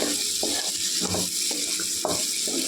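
Onions with salt and turmeric are stirred in a pan for bitter gourd curry, giving steady sizzling with soft scraping strokes at a regular pace, close and fairly loud, with no talking.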